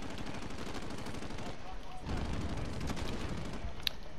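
Gunfire in Call of Duty Modern Warfare Plunder mode, rapid shots over a dense game soundscape, with one sharp crack near the end, moderately loud throughout.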